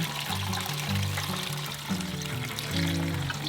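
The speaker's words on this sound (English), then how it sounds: "And then we're going to pour it in there." Coconut milk mixed with salt is poured into a pot of chopped breadfruit, giving a soft continuous liquid splashing and gurgling, close by and fairly quiet, without talk.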